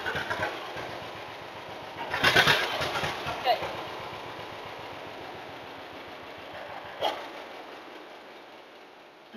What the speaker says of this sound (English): So now we're ready to start the tractor. I'm gonna make sure it revs up nicely.